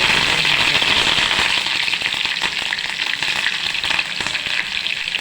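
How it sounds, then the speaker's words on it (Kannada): Mustard seeds spluttering and cumin frying in hot oil, a dense, loud crackle of rapid pops and sizzle throughout, close and steady with no talk. "ಎಣ್ಣೆ ಹಾಕಿ ಸ್ವಲ್ಪ ಸಾಸಿವೆ ಸಿಡಿಸಿ ಜೀರಿಗೆ ಹಾಕಬೇಕ್ರಿ"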